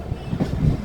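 A train running on rails just after leaving Trivandrum, a close, loud low rumble of wheels and carriage over the track, brief and continuous with no voices.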